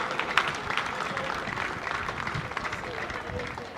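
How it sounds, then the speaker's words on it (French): An audience at a Congolese diploma award ceremony applauds a graduate with steady, moderately loud clapping, mixed with crowd murmur and what sounds like talking. "Applaudissons pour celle-là."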